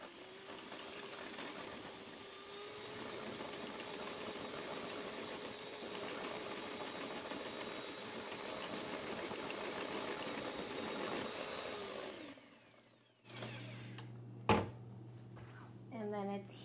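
An electric mixer beats biscotti dough after eggs are added, a steady mid-level motor whirr that runs for about twelve seconds before stopping, followed by faint clatter and handling sounds.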